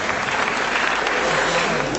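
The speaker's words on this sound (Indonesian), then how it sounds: "Ya, tepuk tangan buat mahasiswa UNY dan UGM dan lain sebagainya." Large audience of university students at a cultural gathering giving a loud, dense round of applause, continuous clapping filling the whole moment without letup.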